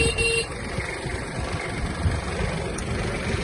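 A Kubota GB-18 Japanese mini tractor sounds its horn in a brief toot at the start, over the quiet, close idle of the engine.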